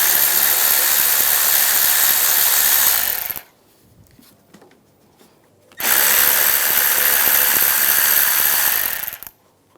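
A power tool with an 8mm socket backs out side screws on a 2008-2013 BMW 328i xDrive during a valve cover job, two loud sustained whirring bursts a few seconds long with a quiet gap between.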